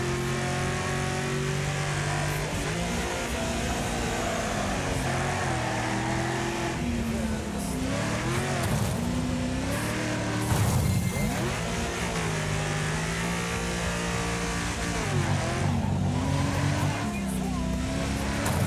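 A race car engine in the demolition racing game Wreckfest revs and drops repeatedly as gears shift, a continuous loud mid-pitched drone climbing and falling through several shifts, with some talk underneath.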